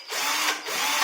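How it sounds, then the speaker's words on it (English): An electric drill whirs with a loud, bright, continuous buzz, close by and alone, its tone swelling slightly twice over about a second. "the electric drill"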